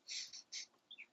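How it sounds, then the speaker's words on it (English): High, thin bird chirps sound in quick bursts from outdoors, faint and set back against near silence, a few short calls spaced unevenly with no talk. "I can all hear the birds in the background."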